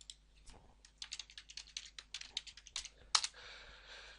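Computer keyboard typing while entering a word into an Excel spreadsheet: a quick run of close, crisp key clicks in an uneven rhythm, ending with one louder keystroke and a brief rustle.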